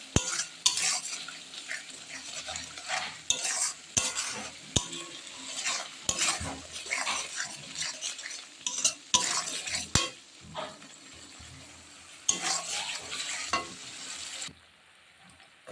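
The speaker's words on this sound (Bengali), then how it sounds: "এখন আমি ভালো করে মশলাটাকে একটু কষিয়ে নেব ভালোভাবে" Spice paste (masala) for a duck egg and potato curry is stirred and fried in a pan. Frequent sharp scrapes and clinks of a utensil on the pan sit over a quiet sizzle, close by, ending in a brief pause.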